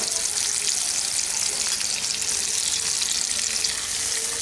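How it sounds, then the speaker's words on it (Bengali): Spice paste and a splash of water hitting hot oil with melted tomato in a pan for chana aloo korma, giving a loud, steady, close crackling sizzle that runs unbroken throughout, with no talking. "এখন আমি এর মধ্যে যে মশলার পেস্টটা রেডি করে নিয়েছি সেটা দিয়ে দিচ্ছি। সামান্য একটু জল দেব।"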